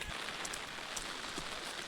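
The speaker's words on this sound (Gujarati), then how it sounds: "ચલો, ઝરમર આવતું થોડો વધી ગયો છે" A light rain drizzle falls outdoors, heard as a faint, soft, even patter with a few brief louder drops over a short stretch.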